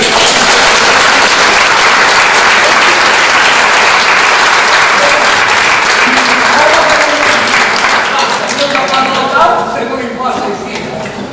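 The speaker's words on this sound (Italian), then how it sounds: "Un grande applauso" Loud, sustained applause from a concert audience in a basilica cloister after a trallalero performance by the Gruppo Canterini Valbisagno, steady throughout and thinning toward the end as a voice begins to speak.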